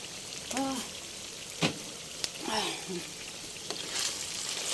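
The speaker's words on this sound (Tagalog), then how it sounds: "Para po makita niyo ang pagluto ko nitong ginisang burong puti" Fermented rice and fish, burong isda with added herbs, sautéing in a pan, a faint steady sizzle with scattered stir knocks, while a person speaks intermittently nearby.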